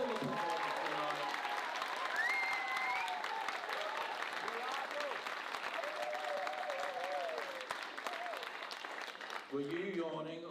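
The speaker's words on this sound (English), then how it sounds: "Round of applause for them and all the performers tonight" Cabaret audience clapping for the performers, a sustained wash of applause with some cheers and voices mixed in, someone talking near the end.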